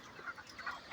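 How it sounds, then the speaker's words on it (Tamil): Chickens on a village poultry farm in a coconut grove, clucking softly in short, scattered calls close by over a low, steady background. "இதான் கோழி பண்ணை வைக்கிறது."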